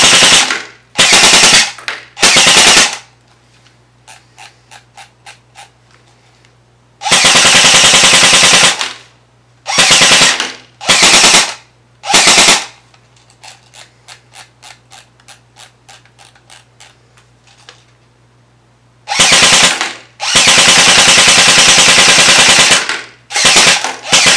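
An airsoft M15A4 rifle fires on full auto in loud, close bursts of rapid buzzing shots. Between the bursts come quieter stretches of fast clicking, with a steady low hum underneath.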